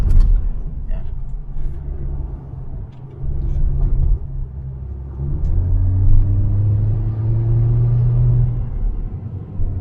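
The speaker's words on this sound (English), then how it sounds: "this is the drive up to the viewpoint" A 2013 Audi A6 C7 2.0 hybrid's engine hums and rumbles steadily, its pitch rising as it climbs a hill under load, with some talking over it.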